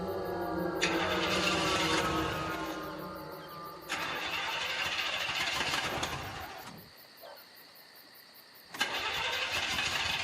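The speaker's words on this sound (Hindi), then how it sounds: "लगता है गाड़ी बंद पड़ गई।" A car engine cranks repeatedly and fails to start, with several grinding bursts broken by brief near-silent gaps, fairly quiet and close.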